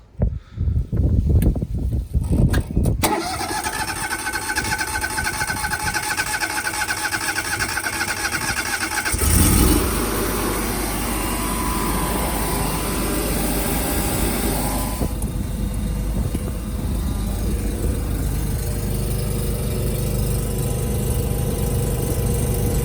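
An SDMO Kohler residential backup generator cranks with a few rough bursts, then catches and runs at a loud, steady drone that shifts in tone partway through and keeps going close by.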